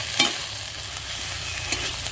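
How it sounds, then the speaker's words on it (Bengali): Ginger-garlic and cumin paste frying in a pan, a steady close sizzle with a couple of brief stirring scrapes near the start and end. "আদা রসুনটা আমি হালকা করে ভেজে নিব।"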